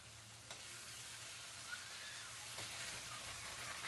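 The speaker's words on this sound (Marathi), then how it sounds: "चांगलं तेलामध्ये भाजून परतून घ्यायचं।" Onion and chopped tomato frying in oil for a Maharashtrian puri bhaji. A faint, steady sizzling hiss continues throughout, with a couple of soft ticks and no voices.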